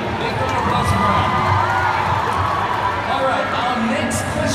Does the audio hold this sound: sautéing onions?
no